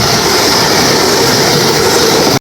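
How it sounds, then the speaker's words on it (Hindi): A Vande Bharat express train passes close and loud, a steady broadband rush and rumble of rolling stock that holds at full strength throughout before cutting off abruptly. "भाई साहब वंदे भारत हमको ओवरटेक करने वाली है"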